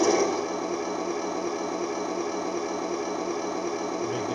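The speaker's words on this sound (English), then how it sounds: "That is your ignition key, and that'll turn on the tank." Heng Long M41A3 Walker Bulldog RC tank running its simulated engine sound, a steady mechanical hum and whir that holds evenly throughout, close by with no talking.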